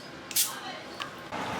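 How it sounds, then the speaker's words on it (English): A short hissing burst of Frylight cooking oil spray onto meat rubbed with peri-peri seasoning, salt and pepper, followed by a fainter second spritz, close to the mic in a home kitchen. "I'm going to spray it with some frylight first."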